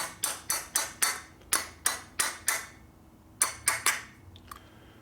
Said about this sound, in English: take your little steel hammer, go tap, tap, tap right on there like that